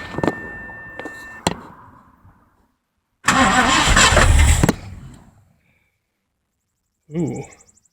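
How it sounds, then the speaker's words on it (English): A V8-swapped Mazda RX-7 engine cranks briefly and then catches in a loud burst lasting about a second and a half before dying away, followed by a short later stab of sound. "let's key this thing up and see if she'll run"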